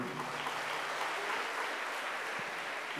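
Steady audience applause at a Kannada comedy and mimicry festival show in Singapore, filling the whole stretch as a dense, even wash of clapping from a crowd.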